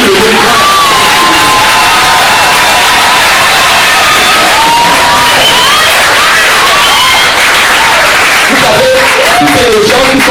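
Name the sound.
church congregation cheering and acclaiming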